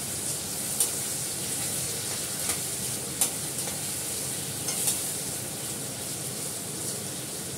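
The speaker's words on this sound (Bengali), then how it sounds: "এটা নাড়তেই থাকবো, নাড়তে নাড়তে ভাজা হয়ে যাবে লাল হয়ে।" Food fries in a pan in a flat kitchen while a spoon stirs it, a steady close sizzle broken by several sharp scraping clinks of the utensil, with no voices.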